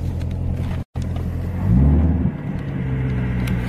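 Engine of a manual-transmission car rumbling steadily in a parking lot, with a short dropout and a brief rise in pitch as it revs during a rough, inexperienced drive.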